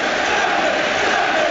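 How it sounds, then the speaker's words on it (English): At Anfield, a packed football stadium crowd applauds with fans on their feet during a Premier League match between Liverpool and Crystal Palace, a loud and dense wash of sustained noise all around. "And everyone on their feet applauding."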